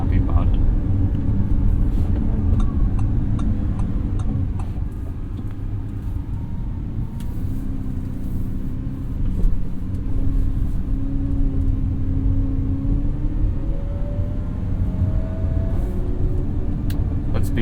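A Lamborghini Revuelto V12 hybrid supercar on the road: a steady, loud low engine drone and rumble throughout, with a rising tone near the middle. A person talks over it.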